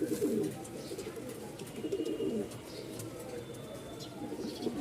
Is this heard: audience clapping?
no